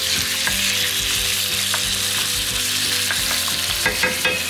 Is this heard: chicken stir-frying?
yes